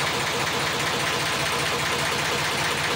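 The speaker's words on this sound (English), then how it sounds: "I love the sound of the trad engines" A traditional canal boat engine runs steadily nearby, a loud continuous chugging drone with a rhythmic knock and no voices.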